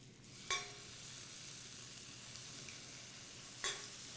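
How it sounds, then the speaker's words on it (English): Diced Roma tomatoes sizzle in hot olive oil in a sauté pan, a steady broadband hiss throughout with two brief sharp crackles or utensil clicks near the start and end. "To another heated saute pan, I'm going to add some olive oil and then add diced Roma tomatoes,"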